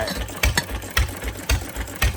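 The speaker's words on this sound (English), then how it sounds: "Let the engine cool off" A 1928 McCormick Deering stationary engine drives an Amish ice cream freezer, chugging in a steady slow rhythm of heavy low thumps about twice a second, loud and close, with no voices over it.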